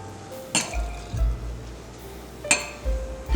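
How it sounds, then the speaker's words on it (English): Bottles and glassware clink while Prosecco is measured and poured into a glass for an Aperol Spritz. There are two bright glass clinks, a soft liquid trickle, and a low background hum, close and fairly quiet. "Then we're gonna do 3 ounces of our Prosecco."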